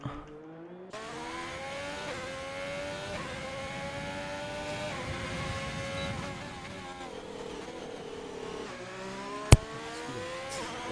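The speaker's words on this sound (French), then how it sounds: "Et c'est parti pour Volta pour son tour de qualif" Race car engine from a racing video game on a qualifying lap at the Hungary circuit, a steady high-pitched whine rising and dropping through gear changes and corners, continuous and close, with a sharp click near the end.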